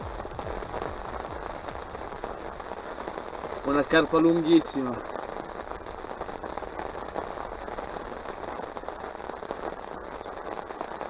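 Heavy, steady rain pours down on the Po di Levante river during carp fishing, a dense continuous hiss throughout, with someone speaking briefly midway.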